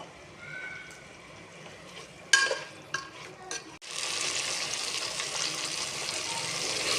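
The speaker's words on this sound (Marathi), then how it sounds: "वांगे एक 10 मिनिटं आपण तेलात वाफवून घेऊया।" Brinjal frying in oil with salt in a pan, stirred around with a few scraping knocks before a steady, bright sizzle takes over and fills the rest.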